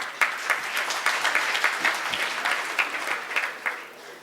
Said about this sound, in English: You now may clap and acknowledge them.